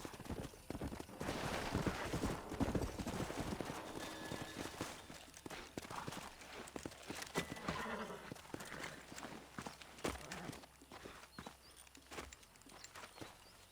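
Horse hooves clip-clop in an uneven walking rhythm, close and fairly clear, with faint rustling and game ambience around them, in the video game Red Dead Redemption.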